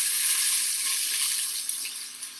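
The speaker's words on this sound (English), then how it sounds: "my quick cooker is getting really hot, so I need to get something going in there. So while I'm doing this, I'm going to toss in some of my onions" Chopped onions sizzling in a hot quick cooker, a steady bright hiss that fades slightly over a couple of seconds, close up with no voices.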